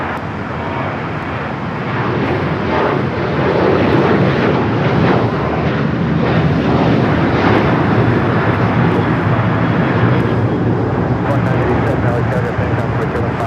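An airliner departing for Shanghai gives a loud, broad jet roar that swells and holds steady for over ten seconds, with commentary running over it.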